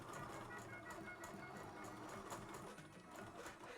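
Sewing machine backstitching while sewing a child's dress, a steady fast mechanical whir with rapid needle ticking running continuously and close.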